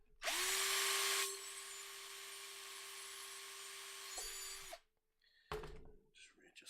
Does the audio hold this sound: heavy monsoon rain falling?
no